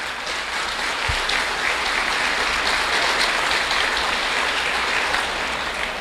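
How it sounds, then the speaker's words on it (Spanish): A congregation applauds to welcome a Pentecostal brother as a guest, dense steady clapping from many hands filling the room, sustained and fairly loud throughout. "Un aplauso pues para el hermano."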